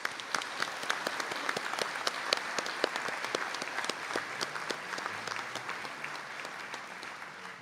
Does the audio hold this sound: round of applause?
yes